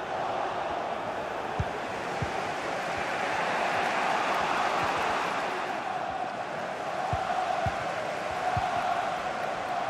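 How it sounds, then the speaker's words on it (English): A stadium crowd roars steadily through a club friendly between Arsenal and Manchester United in the FC 24 football video game, a dense, sustained wash of cheering with occasional thumps. "The crowd certainly think so. Just listen to them."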